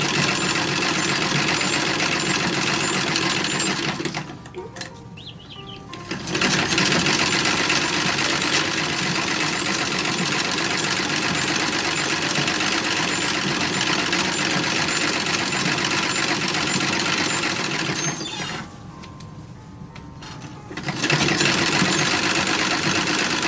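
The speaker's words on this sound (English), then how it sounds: "so I'm just doing a little top stitch." A sewing machine runs a top stitch that holds rickrack trim on a 1920s summer party dress, whirring at a steady, close, loud pace and stopping briefly twice, with no talking.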